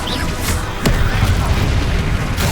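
Confringo explosive spell blast in Hogwarts Legacy, a deep booming impact with a sharp crack in the middle of dense, loud game combat noise.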